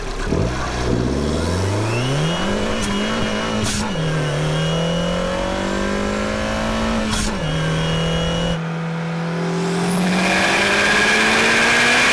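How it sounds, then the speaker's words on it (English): A Honda S2000 engine revs up through the gears, pitch climbing and dropping with each shift, then a high turbo whistle rises over the loud, close roar. "You hear some pretty sweet turbo sounds coming out of those."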